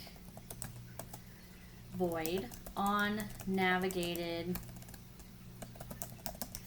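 Clicky computer-keyboard typing while writing code for a Windows app, continuing steadily under a voice.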